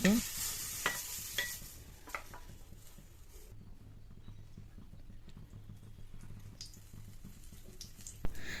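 Faint, quiet frying of cauliflower in a pan, with soft scraping and clicks of stirring and a few louder knocks of the spatula.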